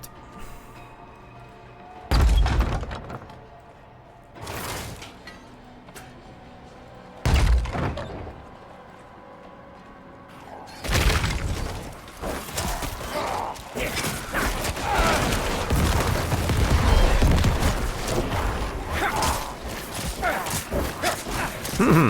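Corpse explosion skill blasts in the Diablo IV video game go off as several separate heavy thumping bursts, followed by a dense, continuous stretch of combat noise, loud and close, with a voice talking at times.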